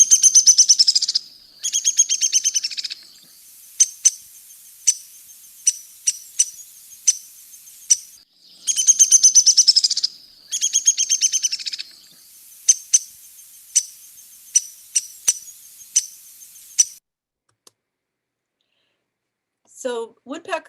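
Backyard woodpeckers giving sharp, repeated chirping calls, with rapid rattling bursts broken by single clear notes in an irregular rhythm. The calls are close and fairly loud, then fall quiet near the end.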